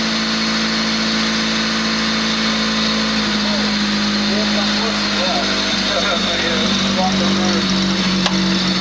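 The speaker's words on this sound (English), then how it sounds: "Well, damn, that motor sounds good." A Honda D16Z6 engine runs at its first start-up, a steady close idle with a constant mechanical hum and a busy, rattly texture, while voices talk over it.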